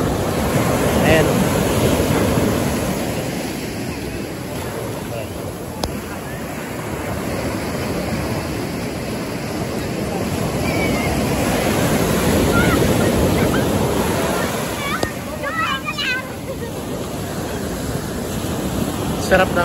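Ocean waves breaking on a shore where children play, a steady loud wash of surf with swelling rushes and wind buffeting the microphone, while people talk and shout faintly in the background.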